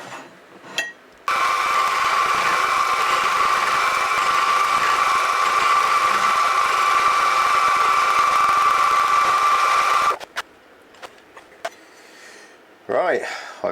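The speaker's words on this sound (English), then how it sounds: "I'll get these set up in the vise and then milled down" A milling machine cuts miniature petrol engine parts held in a vise, a steady whining, buzzing tone that runs for about nine seconds and then stops, followed by a few clicks and some speech.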